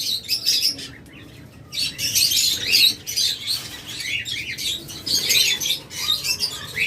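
Lovebirds for sale, including an egg-carrying pair, chirp and squawk in a dense, continuous chorus of high, overlapping calls that pulse in bursts, fairly close and loud, with no talking.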